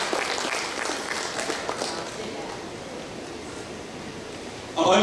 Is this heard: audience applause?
yes